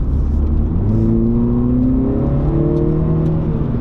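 A 2020 Mini John Cooper Works GP engine with 306 hp revs steadily, its droning pitch climbing through the gears, loud and close throughout with no voices.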